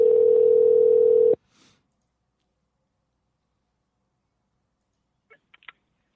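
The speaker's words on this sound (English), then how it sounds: "you'll be able to hear the ringing in the background because this call is live" A telephone ringback tone on a live radio-show phone call sounds as one loud, steady electronic tone for about a second, then cuts off, leaving near silence with a few faint clicks near the end.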